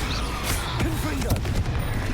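An explosive Confringo spell is cast in the Hogwarts Legacy game amid combat, with crackling bursts and rapid blasts layered over a busy background of battle effects.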